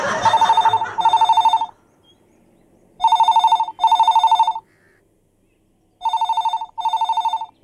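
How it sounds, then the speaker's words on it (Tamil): An old-style telephone bell rings loud and close in double bursts, three pairs separated by short silences, with a brief voice overlapping the first ring. "டெலிஃபோன் மணியா?"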